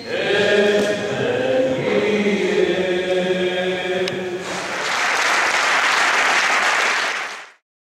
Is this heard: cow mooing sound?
no